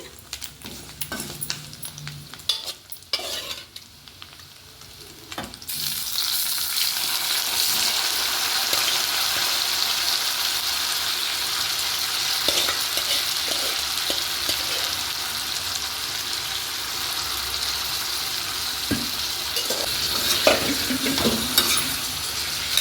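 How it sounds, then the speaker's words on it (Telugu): Dried prawns fried with amaranth leaves are stirred in a pan, a few clinks and scrapes first, then a steady loud sizzle with occasional utensil scrapes close by; no talking. "తోటకూర కూడా వేసుకుని ఇలా బాగా కలుపుకోవాలి"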